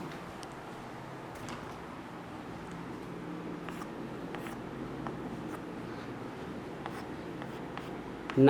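Chalk or marker writing on a classroom board during a chemistry lesson, heard as faint, continuous scratchy strokes with small taps, set against a low room hum and no talking.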